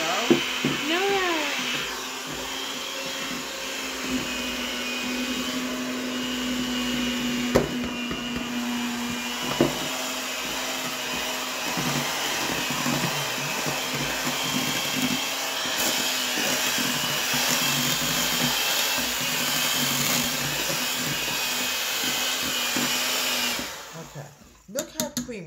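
An electric mixer beats vanilla cake batter in a continuous close whir that runs for the whole stretch and shifts slightly as it works, then cuts off at the end.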